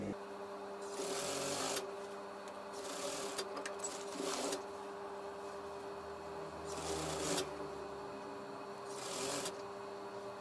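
A sewing machine stitches the inseam of casual drawstring shorts in bursts, its rapid mechanical whir starting and stopping several times close by, with softer handling rustles between runs and no voices.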